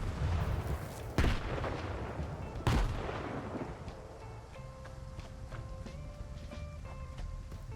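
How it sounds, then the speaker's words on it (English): A chain of explosions, set off by a grenade thrown into a hole in STALKER 2, lands as two heavy, booming blasts over continuous rumbling noise. A quieter tail follows with faint scattered clicks. "throw a grenade into a hole to trigger a chain reaction of explosion"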